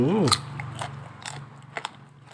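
Crisp bites into crunchy raw mango dipped in chili shrimp paste, a few sharp crunches and chewing sounds up close, with a voice and mouth noises mixed in.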